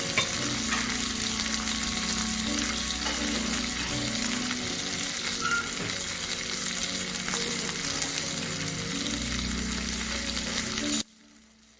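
A T-bone steak sizzles loudly on a hot plate at a restaurant, a dense, continuous crackle up close that cuts off abruptly near the end.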